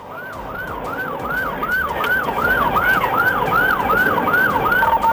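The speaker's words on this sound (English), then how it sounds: "emergency lights and sirens were activated" A police car siren wails in a rapid repeating rise-and-fall pattern during a pursuit, loud and close, over the steady rumble of a moving vehicle.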